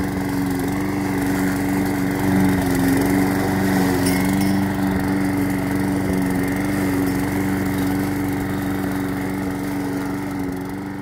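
A petrol lawn mower drones loudly and steadily nearby as it cuts deep grass without vibration, its engine note holding even throughout.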